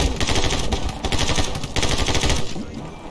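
Dense, loud bursts of gunfire from the video game My Friend Pedro, fast overlapping shots that run almost continuously with short dips in between.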